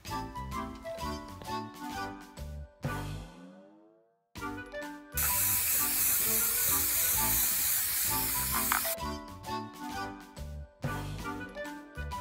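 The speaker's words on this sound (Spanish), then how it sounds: "voy a coger el spray y voy a pintar todo de dorado" Gold spray paint hisses from an aerosol can onto an object in one long, loud, steady spray, set between stretches of upbeat background music.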